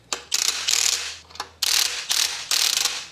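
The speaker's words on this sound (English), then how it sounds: "Just tighten it down to your lock washer." A hand ratchet tightens a handlebar riser bolt on a Harley road motorcycle during a 10.5-inch bar and riser install, clicking in several quick, loud bursts with brief pauses between strokes.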